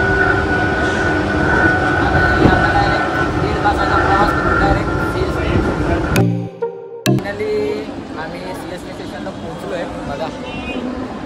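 Loud rumbling of a moving train from inside a carriage bound for CST, Mumbai, steady clatter and roar, briefly cutting out midway before resuming; voices murmur underneath.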